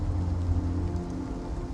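Sudden desert microburst, heavy rain driven by strong winds: a dense, steady wash of pouring rain with a low rumbling roar underneath, fairly close and continuous.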